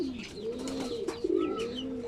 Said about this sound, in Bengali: অনেকগুলো কবুতর আমার আছে